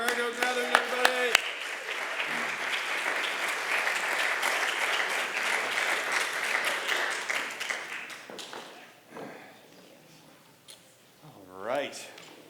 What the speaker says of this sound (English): Round of applause for Margo, gathering everybody.